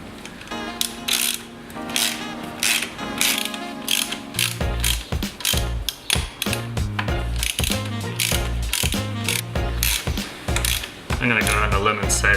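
A power driver spins off the coilover nuts on a Mazda MX-5, a rapid ratcheting clatter that comes in repeated loud bursts, fast mechanical clicking close by.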